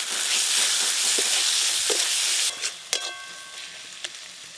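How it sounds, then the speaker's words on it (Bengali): Loud, steady sizzling of a garlic, ginger, cumin and dried chilli paste with turmeric frying in a pan, breaking off into a few sharp clinks and scrapes of stirring before settling quieter. "লবণ, অল্প একটু জল দিয়ে মশলা বেশ ভালো করে কষে নেব।"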